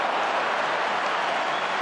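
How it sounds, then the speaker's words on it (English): Crowd at an AFL match between West Coast Eagles and St Kilda applauding and cheering, a dense, loud, continuous wash of clapping and noise from a large stadium audience. "Fans like the efforts of McGinnity there."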